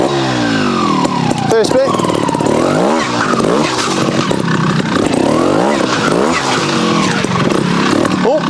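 A TRS One RR 250 trials motorcycle picks its way over rocks at Bracken Rocks, engine burbling and revving in quick blips up close, with a brief spoken phrase over it.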